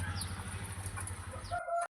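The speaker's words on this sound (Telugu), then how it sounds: "ఎన్ని కోళ్ళు ఉన్నాయో చూడండి" Chickens cluck and a rooster calls close by, a busy flock chattering together before the sound cuts off abruptly.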